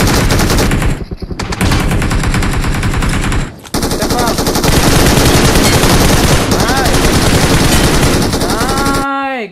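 Automatic weapons fire in a mobile shooter game played on an iPad: long, loud, rapid machine-gun bursts that carry on almost nonstop, with only a couple of brief pauses.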